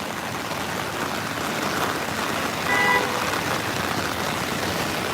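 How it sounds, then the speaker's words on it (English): Heavy rain from tropical storm Fay pouring down in New York City, a steady dense hiss with low traffic rumble beneath and a faint horn-like tone midway, no voices. "it's raining so hard you could barely see it"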